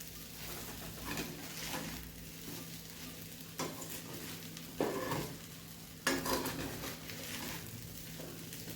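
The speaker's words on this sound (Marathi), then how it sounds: "आता आपला साबुदाणा होत आलाय. त्याला परत एकदा हलवून घेते." Sabudana khichdi is stirred in a pan, with a soft sizzle under repeated scraping strokes and three sharper spoon knocks spaced a second or two apart, fairly close and quiet, no speech.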